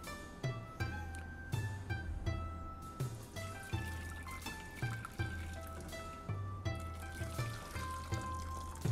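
Vegetable stock for onion soup is poured back into a pot. A steady liquid pour runs throughout with repeated clinks and knocks, and background music plays under it.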